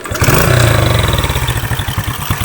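A motorcycle engine fires up after a carburetor idle adjustment, settling into a close, loud, rhythmic chugging idle with evenly pulsing beats.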